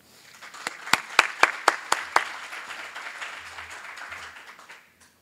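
An audience at a 2015 regulatory conference applauds to welcome speaker Amigo Wade: a few sharp, loud claps up front swell into a steady spread of applause that fades out after about four seconds.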